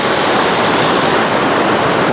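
Elephant Falls near Dalat, Vietnam, roaring loud and close: a dense, continuous rush of falling water that fills the whole moment, with no voices.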